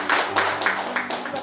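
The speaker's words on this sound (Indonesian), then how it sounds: "Yang percaya berikan tepuk tangan yang meriah." A church congregation claps during a Sunday service, with a few loose bursts of applause rising and falling over a short stretch, fairly faint and distant in a reverberant hall.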